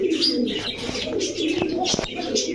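Pigeons, racing and colored breeds, coo and chirp close by in a loft or market, soft repeated calls with faint background voices.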